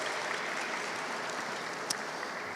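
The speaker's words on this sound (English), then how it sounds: "Please give them a round of applause." A rally crowd at a state house gives a round of applause, an even, distant wash of many hands clapping at low level throughout, with one brief sharper sound partway through.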